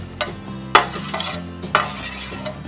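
Pointed gourd (parval) tossed into a pan of frying spices and stirred: sharp scrapes and clatters of a spoon against the pan over a low, steady sizzle, with no one speaking.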